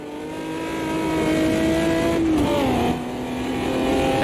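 A stock car engine in the Automobilista 2 racing game revs hard and loud, holding a rising howl, then dropping briefly as the driver shifts before climbing again, with no talk over it.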